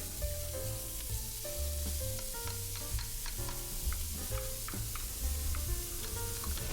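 Garlic stir-frying in oil in a pot over medium-high heat, a continuous soft sizzle with light stirring, fairly quiet, while music plays over it.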